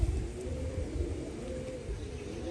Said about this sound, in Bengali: এটা ঝামর পায়রা আছে, বেলডাঙ্গা লাইনের ঝামর পায়রা